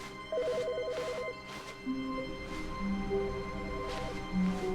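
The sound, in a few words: telephone ringing in a video game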